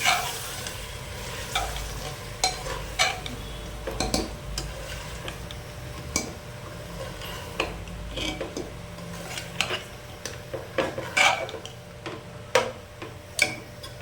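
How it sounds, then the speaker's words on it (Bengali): Chicken being stirred with masala paste in a frying pan, repeated scraping and clicking strokes of a spatula over a constant sizzle, fairly close, with no talking. "এবার এটা আমরা ভালোভাবে মিশিয়ে নেব চিকেনের সাথে।"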